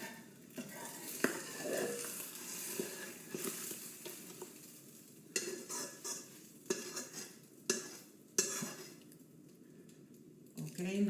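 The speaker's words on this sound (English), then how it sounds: "Now it looks like it's totally fried." Eggs fry in a pan with a soft continuous sizzle, broken by intermittent clinks and scrapes of a utensil against the pan.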